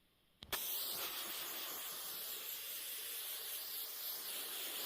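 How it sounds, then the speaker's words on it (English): A can of hairspray lets out a click, then a steady, close, continuous hissing spray that keeps going without pause, with no one talking. "I need my hairspray."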